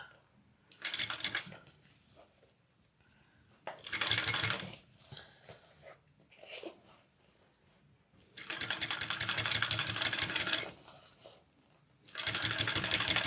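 A sewing machine stitches a Sue Sue Sling, running in loud bursts of whirring motor and rapid needle clatter separated by short quiet pauses, close up and with no talking.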